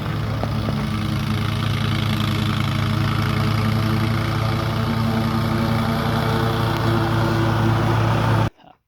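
A Toro Grandstand 60-inch stand-on mower with a 23.5 HP Kawasaki FX730V engine runs steadily, a loud close droning hum holding level throughout before cutting off abruptly at the end.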